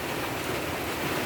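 Steady rain pours down in a rural countryside setting, a dense, even hiss with no breaks, close and moderately loud, with no voices over it.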